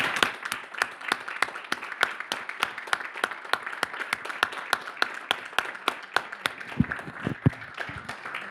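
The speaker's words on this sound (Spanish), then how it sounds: "El aplauso es para el combatiente." An audience claps for a Malvinas war veteran at a talk, slow, steady rhythmic clapping with sharp evenly spaced hits, moderately distant with faint murmuring beneath.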